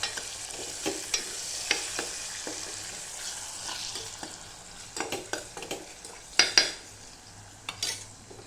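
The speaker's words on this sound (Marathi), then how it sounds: "आता हे तेलामध्ये छान परतून घेते" Red chili powder, salt and turmeric fry in hot oil with a soft sizzle while a spoon repeatedly scrapes and clinks against the pan. The clatter grows busier toward the end.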